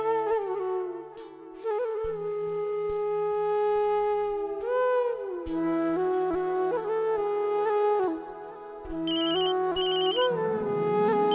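A telephone plays a loud, clear melodic ringtone, a bright repeating electronic tune of sustained notes that fills the whole stretch, with a few higher chiming tones joining near the end.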